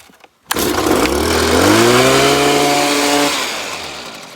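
A Stihl HS 81 T 30-inch hedge trimmer engine catches with a sharp start, then runs loud and close as it revs up, holds a high buzzing pitch, and eases back toward idle.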